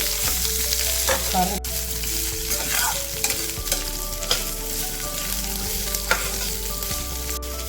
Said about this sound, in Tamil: அந்த கலர் சேஞ்ச் ஆகிற வரைக்கும் இது வந்துட்டு ஃப்ரை ஆகட்டும்.